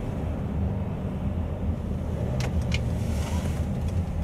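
2016 Mercedes-Benz GLC 220d AMG 4Matic diesel SUV at night in Sport Plus mode, a steady low engine and road rumble with wind noise inside the cabin, no talk.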